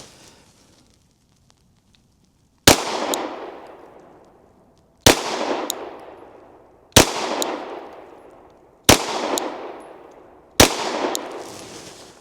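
Five sharp Glock 49 pistol shots fired on a cold outdoor range, evenly spaced about two seconds apart, each a loud crack with a ringing decay and no talking.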